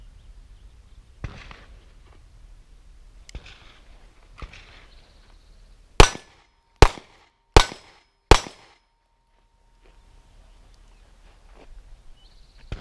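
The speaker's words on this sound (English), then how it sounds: "I'm going to shoot a few rounds, change magazines, and try to move at the same time" A handgun fires four sharp, loud single shots spaced under a second apart while the shooter moves, preceded by faint footsteps and handling clicks, with a quiet ringing tail afterward.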